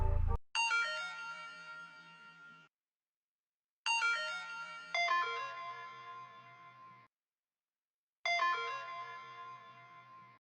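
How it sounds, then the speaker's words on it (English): An analog-style synth accent one-shot for a beat, heard as three bright, bell-like hits with decaying tails, each a pair of stacked notes, separated by short silences. "the next sound I added was this accent type sound that just plays on the 1 and the"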